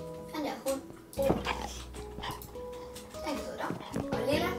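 Dog from the Minecraft video game making short yips and whimpering sounds amid someone talking and game music, with the animal noises faint and mixed under the chatter.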